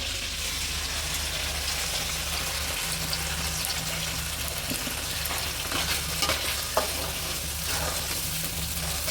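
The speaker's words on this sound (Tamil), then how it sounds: "இது நல்லா எண்ணெயிலே வதங்கட்டும்." Ground onion masala fries in oil with a steady, close sizzle and occasional stirring scrapes throughout, with no talk.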